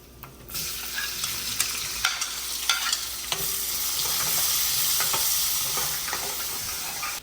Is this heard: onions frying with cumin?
yes